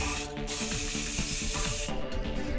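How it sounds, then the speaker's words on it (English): A spray paint can hisses out a black undercoat onto a sci-fi platform lift miniature for a tabletop game, two long close bursts with a brief gap between them. "You're going to start off with a black undercoat with your spray paint of choice."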